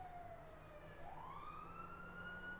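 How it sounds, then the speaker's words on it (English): A faint, distant emergency-vehicle siren in the NoPixel roleplay game wails steadily, then rises in pitch over a low background rumble, with no voices over it. "Hear a siren."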